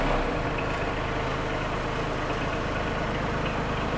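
A Bobcat MT100 mini track loader's engine runs steadily after starting, a loud, even diesel rumble with no talk over it.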